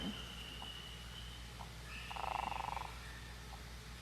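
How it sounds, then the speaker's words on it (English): A leopard frog lets out a short, low, snoring croak over a quiet, steady background hum, heard once in a brief rattling burst with no talking. "He's letting all of you know that he is not happy. Not happy. So this is a leopard frog."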